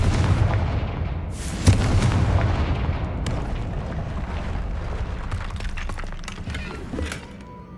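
Confringo blasting spell detonating in the Hogwarts Legacy video game: a loud booming explosion with a sharp second blast, followed by a long rumbling, crackling tail of falling debris that fades toward the end.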